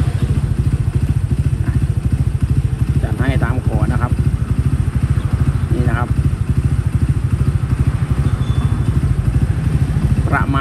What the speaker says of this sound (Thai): เราก็จะมาเปิดรอบนะครับตัวนี้ผมมาเปิดรอบด้วย